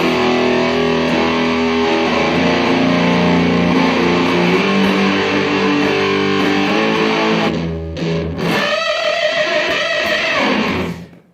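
An electric guitar plays through a Muffy fuzz pedal into a Wonderbolt distortion pedal, a loud, thick, sustained distorted tone with heavy low end, a short break, then more fuzzy chords that cut off abruptly.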